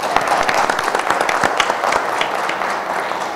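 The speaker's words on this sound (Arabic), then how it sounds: "فمعايا صفقوا للأردن." Audience at an Arab human-resources development seminar applauds for Jordan, a steady, loud crowd of clapping that holds evenly throughout with a faint murmur of voices underneath.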